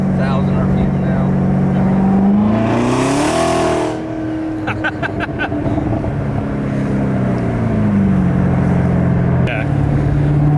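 A supercharged Corvette C7 ZR1 pulls hard in second gear, its engine note rising then dropping loud and close from the cabin, while people talk over it.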